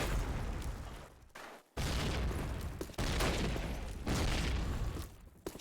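A grenade blast and volleys of gunfire in a competitive tactical shooter match, loud broadband bursts separated by short gaps, with no voices.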